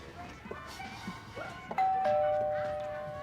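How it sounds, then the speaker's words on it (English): A doorbell chimes twice, two clear ringing tones that linger and fade, after some faint background rustling and movement. "Doorbell! I heard it."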